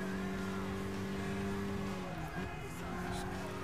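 Race car engine held steady on the throttle in Gran Turismo 6 at the Goodwood Festival of Speed, a continuous droning tone with a brief pitch dip midway, under a speaking voice.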